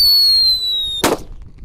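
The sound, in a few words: red Whistling Thunder firecracker exploding in hole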